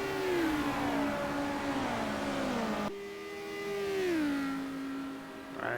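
Touring car engines race down the straight at Le Mans in a 1990 WTCC round, a droning engine note that falls in pitch as one car passes, followed by another car's whine rising and sweeping past.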